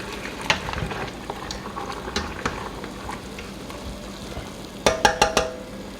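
A pot of tomatoes for canning bubbles and simmers with soft clicks and taps of stirring, ending in a quick cluster of sharper knocks against the pot.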